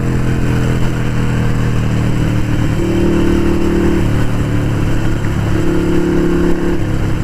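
A Harley-Davidson Sportster 883 Iron motorcycle engine runs with a deep, loud, steady rumble, briefly rising in pitch as it revs up twice before settling back, close and continuous with no talking.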